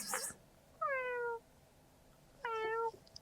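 Two clear cat meows, each about half a second long, with a short quiet pause between them. The second meow is slightly shorter than the first.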